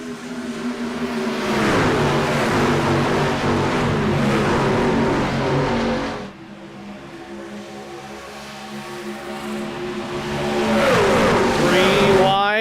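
Race trucks roaring around a California track in an IROC Challenge race, engines revving and droning as they pass close, pitch rising and falling, with a commentator talking over the noise.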